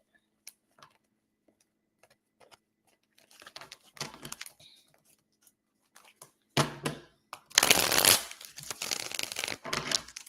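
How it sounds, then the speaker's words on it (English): A deck of cards being shuffled: quiet scattered ticks and clicks at first, then a loud flurry of riffling card snaps that runs for several seconds close to the microphone. "Why are these cards not shuffling right?"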